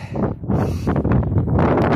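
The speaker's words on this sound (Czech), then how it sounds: "Docela tady fouká" Gusty wind buffets the microphone on an open hilltop overlooking a town, a steady loud rush with a brief lull before it picks up again.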